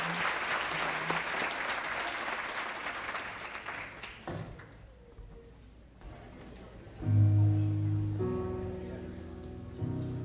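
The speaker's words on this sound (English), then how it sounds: "We can applaud for them just for how they look." Audience claps for a dance ensemble at a school event, the applause loud and sustained for about four seconds before fading into quiet, then a sung tune starts.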